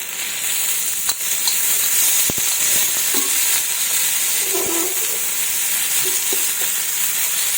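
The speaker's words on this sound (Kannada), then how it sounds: "ಎಣ್ಣೆ ಹಾಕಿ ಫ್ರೈ ಮಾಡ್ಕೊಳ್ಳೋಣ." Green chillies and coriander fry in oil in a pan for a chilli chutney, making a loud, continuous sizzle broken by scattered stirring clicks and scrapes.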